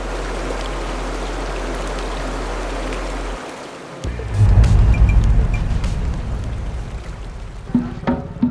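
Flowing river water near the Salbardi caves makes a continuous broad rush. A steady low hum in the first half gives way to a stronger, splashier flow with scattered knocks and clatter.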